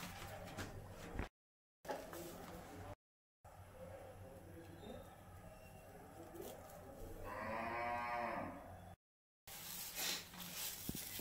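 A single cow moo rises faintly from some distance in the middle of a quiet household scene where banana leaves are being prepared for cooking, with soft background noise around it.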